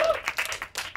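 Scattered clapping from a stand-up comedy audience at an education fair show, a short burst of hands close by, mixed with a voice speaking over it.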